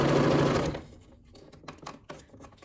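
A sewing machine stitches a straight seam while attaching fabric binding to a multipurpose organizer, running loud and steady for under a second before stopping, followed by quieter handling noises.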